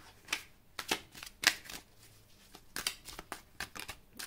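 Tarot cards shuffled alone in a quiet room, a run of crisp riffling bursts and soft slaps spaced irregularly, one louder flurry in the middle, with no talk.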